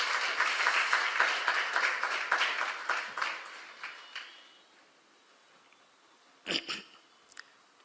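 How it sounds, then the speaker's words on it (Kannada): Loud applause from a concert audience at a Carnatic music birth-anniversary celebration, dense clapping for about three seconds before thinning into scattered claps and a few isolated hand claps near the end. "ಒಂದು ದೊಡ್ಡ ಚಪ್ಪಾಳೆ ಬರಬೇಕು"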